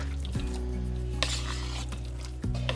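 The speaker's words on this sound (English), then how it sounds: "then we're going to mix all that together" Cheddar cheese mixed into biscuit dough in a bowl, a soft continuous scraping and stirring with a few light clinks of utensil against the bowl, close and quiet, no voices.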